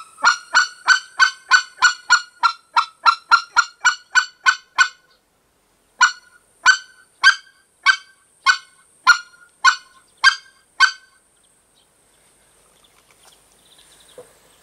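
Goose call imitating white-fronted goose clucking, a loud rapid run of about fifteen sharp honking clucks that then slows to spaced single notes before stopping, with no talk.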